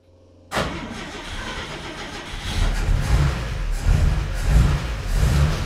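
A car engine cranks and catches after a brief quiet moment, then settles into a loud rumbling idle with a few light revs, close by.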